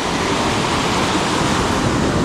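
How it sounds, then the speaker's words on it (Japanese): Waves break on an open surf beach in a continuous loud roar, with wind buffeting the microphone and no voices. "何気にいい波だよこれ。 サーファーが喜びそうな波ですねこれ。"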